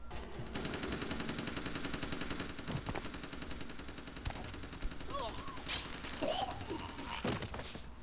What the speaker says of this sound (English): You should watch out for those hails of gunfire.